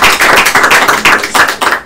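A small room's audience applauds the host of an event, a dense steady patter of many hands clapping close and loud with no talking.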